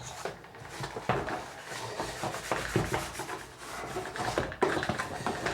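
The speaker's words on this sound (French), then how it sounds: "frotter une fois de plus. Libérer votre tondeuse de toute cette" Cut grass is scrubbed off a STIHL RMI 422P robotic lawnmower with steady, close rubbing and rasping strokes, a series of uneven brushing scrapes with small knocks, and no talking.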